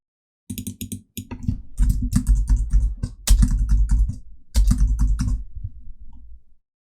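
Keyboard typing on a computer during a design software session, a steady run of close, crisp key clicks in quick bursts with brief pauses, no voices.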